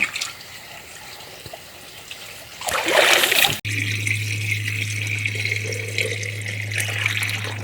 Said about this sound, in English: We had to go down to the creek to get water to fill the radiator